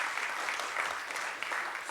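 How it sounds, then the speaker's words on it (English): An audience gives panelists at a water-technology event a round of applause, a brief, moderately quiet burst of many hands clapping together. "Can we give them a round of applause?"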